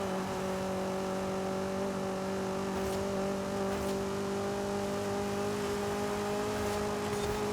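Honda Civic Type R engine in a racing video game, fitted with a 1.6 engine, holding a steady, droning hum at a sustained pitch with faint tire noise, heard alone without talk.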